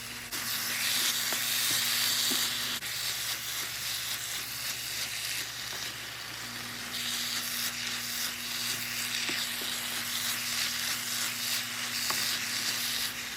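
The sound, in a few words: ground beef with parsley and onions frying in a pan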